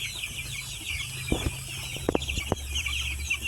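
Ten-day-old broiler chickens in the brooding stage on a farm in Quezon cluck and peep softly over a steady mechanical hum, with a few sharper close calls standing out briefly.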